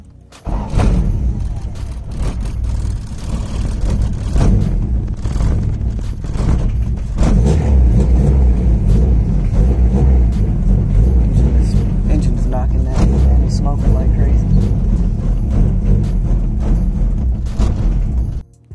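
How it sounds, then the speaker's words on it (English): A car engine runs roughly up close, with irregular thumping knocks over a loud, uneven rumble. "Hear that knocking noise?"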